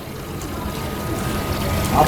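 Water running through a homemade oxygen regulator rig, a steady broadband hiss and trickle that swells slightly toward the end, with no one speaking.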